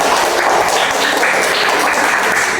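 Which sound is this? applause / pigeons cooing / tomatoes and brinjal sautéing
applause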